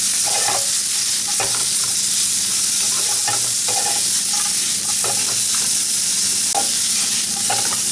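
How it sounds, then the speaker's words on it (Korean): Meat and giant Japanese shimeji mushrooms fry in a pan on reduced heat with a loud, continuous sizzle. Spatula stirring and scraping sounds come in repeated bursts over it, close up. "이제 고기를 천천히 익혀가면서 이제 버섯도 같이 익혀가는 느낌으로"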